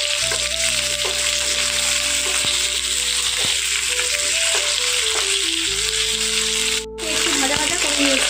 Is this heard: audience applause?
no